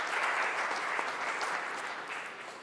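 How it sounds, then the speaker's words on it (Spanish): A room of men at a church gathering claps briefly and steadily in an even round of applause that tapers off slightly toward the end. "Entonces, un aplauso, por favor."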